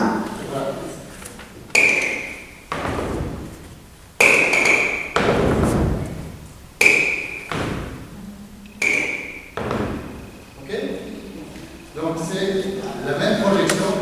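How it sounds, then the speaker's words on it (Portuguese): Hands thumping on a person's back during a session at a 2022 congress in Brazil, with about half a dozen firm, evenly spaced thuds, each followed by a faint ringing tone, while people talk between the blows. "agora por enquanto você martela as costas dele e ele escreve"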